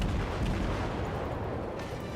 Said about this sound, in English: There's a ship over here. Take some shots at him.